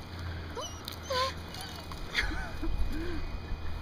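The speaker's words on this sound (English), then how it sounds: "that dog's scary looking" Dog making whimpering, whining yelps, several short rising and falling cries, close and moderately loud, with people talking and reacting around it.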